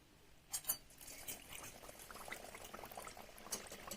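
Pumpkin vadas frying in hot oil, a faint, bubbly crackle with a couple of brief clinks near the start, heard close and quiet.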